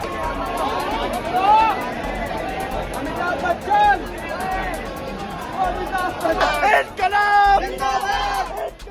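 A large outdoor crowd at a CJP protest celebrates victory with loud, continuous chatter and cheering, swelling into louder bursts of shouting near the end.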